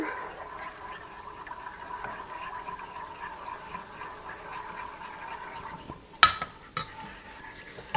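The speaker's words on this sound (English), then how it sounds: "Just going to stir this." A spoon stirs a sugar mixture in a pot over medium-low heat, a quiet steady swirl that ends in a few sharp knocks of metal against the pot.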